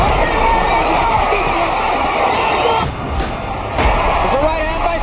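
A boxing crowd roars steadily at the Larry Holmes vs Michael Spinks heavyweight title fight, a dense, loud wall of cheering with a couple of brief dips and thuds, a commentator talking over it.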